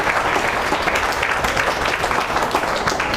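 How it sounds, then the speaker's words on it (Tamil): An audience at a talk claps continuously, a dense, steady wash of close applause that fills the whole moment with no voice over it. "கைத்தட்டுங்க"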